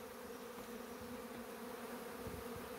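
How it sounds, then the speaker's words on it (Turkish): Honeybees at a beehive apiary, a dense, continuous buzz of many bees close by, steady and even throughout with no voices. "3-4 çıtada falan arı var he, maşallah."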